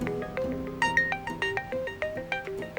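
A mobile phone ringtone plays a bright repeating melody of clear electronic tones, loud and close, with no talk over it.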